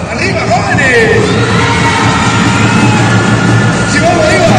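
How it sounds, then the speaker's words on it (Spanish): Crowd of young people at a school anti-violence campaign event in Camiri, cheering, shouting and clapping as a loud, continuous wall of sound with a few rising whoops, an amplified voice mixed in. "Por favor, escucho el aplauso de cada una de las barras."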